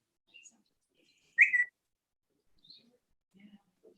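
A phone's message notification whistle, a bird-like chirping tone, sounds once, short and fairly clear, in an otherwise quiet room with a few faint soft noises around it.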